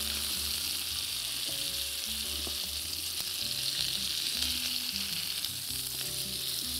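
Meat browning in a pan, frying with a steady, dense sizzle and occasional stirring scrapes, close and continuous throughout.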